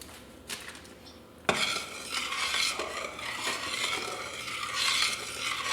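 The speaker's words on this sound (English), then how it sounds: "I'm going to give it one more quick stir." Caramel icing being stirred in a pot on a hot stove eye as it starts to bubble, a steady scraping stir with sizzling and light clinks against the pan, continuous and close.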